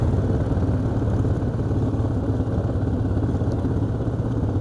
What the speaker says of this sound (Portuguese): As 2 motos estão fazendo barulho.